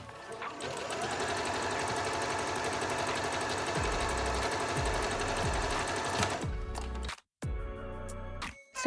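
A sewing machine runs steadily zigzag stitching the side seams of a stretch fabric dress, a close, continuous rapid mechanical whir that stops near the end with a few clicks.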